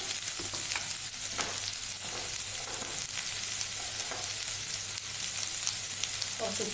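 Onions and green chillies sautéing in a pan over a medium flame for cauliflower kurma give a steady, close sizzle that runs throughout with no talking.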